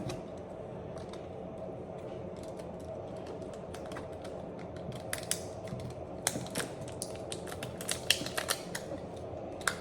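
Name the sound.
transparent packing tape being pulled and applied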